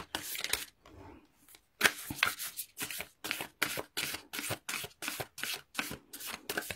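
An Aries love tarot reading uses a Whispers of Love oracle card deck, shuffled in a steady run of crisp, close riffling bursts separated by short pauses, with no voices.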